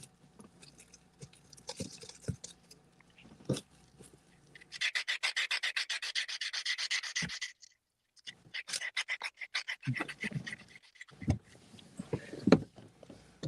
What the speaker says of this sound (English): just sanding the decks